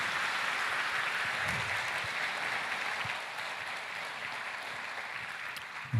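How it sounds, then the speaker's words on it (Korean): Audience applause at a Christian church gathering after a testimony, a soft, steady wash of many hands clapping at a distance, even throughout with no voices. "한 번 더 큰 박수로 격려 말씀하겠습니다"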